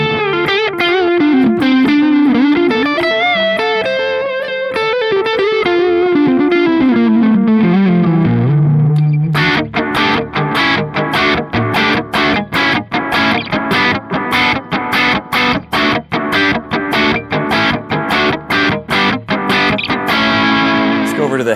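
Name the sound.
guitar echo from Donner Yellow Fall 2 pedal with distortion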